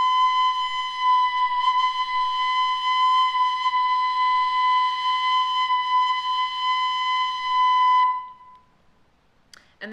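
A tin whistle holds one bright, steady high note with circular breathing, sounding unbroken and loud for about eight seconds before it stops, followed by a brief faint clatter.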